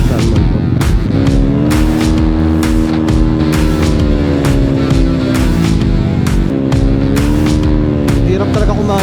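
A motorcycle engine drones loudly and steadily on the road, its pitch rising and falling with the throttle under wind noise, while the helmeted rider talks over it.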